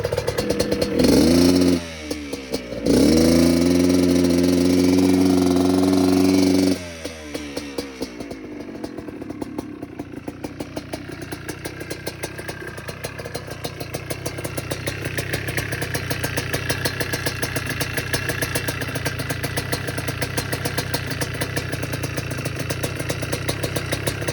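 A neglected Yamaha Blaster ATV with a no-rev fault, its small engine first blipping with a loud rising buzz, then settling into a steady, rattling idle that runs on alone at close range.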